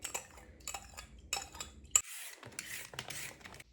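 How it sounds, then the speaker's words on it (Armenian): Spoon stirring apple vinegar with salt and sugar in a glass, several close clinking and scraping strokes in quick bursts, with a louder swishing stir near the end. "խառնում եմ, որպեսզի լավ լուծվի"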